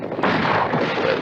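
Rapid gunfire from a six-gun revolver in a western film, a dense roaring burst of overlapping shots that is loud and continuous throughout, with no talking.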